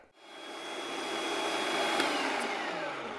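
A food processor runs steadily while blending a Greek meze dip. It starts up and holds a loud, even whirring drone for several seconds, with no voices.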